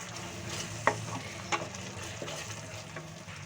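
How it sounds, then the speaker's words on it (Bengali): Masala sizzles and fries steadily in a pan for shahi paneer, a constant close crackle with a couple of soft stirring clinks, heard alone with no talk. "মশলাটা প্রায় ভাজা হয়ে গেছে"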